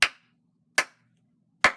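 Three sharp, single hand claps spaced evenly apart in a small room with towels hung on the walls, each dying out quickly with almost no echo.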